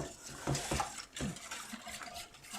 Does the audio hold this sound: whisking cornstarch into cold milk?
yes